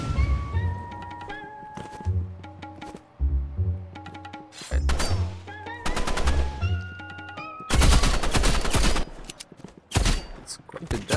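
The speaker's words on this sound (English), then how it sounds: "Oh my god, the auto fire." Bursts of automatic gunfire in the online shooter Rivals, rapid rattling volleys that repeat in several loud clusters with brief pauses between them, together with sharp impact thuds.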